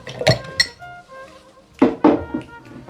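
Honey stirred into bourbon in a glass, heard as bright clinks of a spoon against glass in two bursts, close and clear with quiet pauses between.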